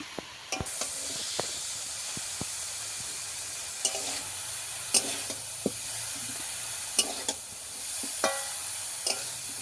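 Chicory-type greens sautéed with khesari dal and prawns in a pan give a steady soft sizzle and hiss, broken by frequent sharp scrapes and taps of a spoon stirring, close and fairly quiet with no talk.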